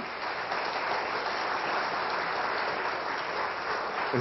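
Sustained applause from a studio audience greeting a semi-finalist on a French letters-and-numbers game show, a steady dense wash of clapping with no talk over it.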